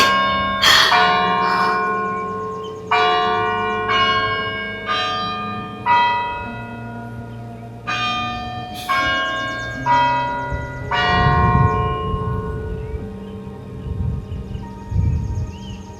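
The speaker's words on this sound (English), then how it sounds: "The bells follow me everywhere, I swear." Church bells ringing outdoors, with a series of loud, resonant strikes arriving in uneven clusters and long ringing decay between them, continuing for the whole stretch and fading toward the end; no one talks.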